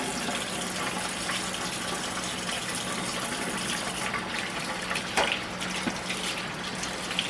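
A tap runs steadily into a sink while hands are washed under it, a close, continuous gush with small splashing changes and a brief knock near the end, and no voices.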